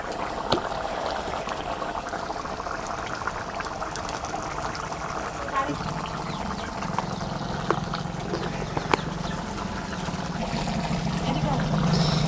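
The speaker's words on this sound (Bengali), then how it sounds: "নাবানোর আগে আমি 2 চামচ সরষের তেল দিয়ে দেবো ওপর দিয়ে।" Mustard oil is poured over cooking aloo posto, giving a soft liquid trickle and sizzle over a steady simmering bubble, close and fairly quiet, with a low hum rising near the end.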